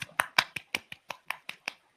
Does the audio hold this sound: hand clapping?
yes